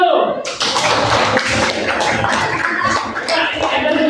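A classroom group claps in a dense, steady burst after a teacher's prompt in an informatics lesson, brisk hand claps filling the room with light chuckles mixed in.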